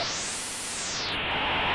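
A harsh, distorted synth tone roars like broadband noise, its upper edge sweeping down partway through, loud and sustained throughout.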